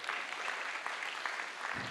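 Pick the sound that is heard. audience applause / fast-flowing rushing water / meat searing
audience applause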